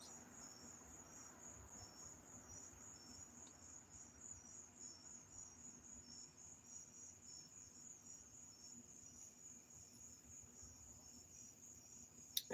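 Crickets chirp continuously outdoors at night, a steady high pulsing trill that sounds faint and distant, with a low background hum and no talking.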